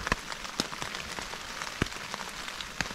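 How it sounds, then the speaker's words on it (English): Rain falls on a tent outdoors during a wild-camping bike tour in Sweden, a steady close patter with scattered louder drops tapping the fabric, without any talking. "it started to rain"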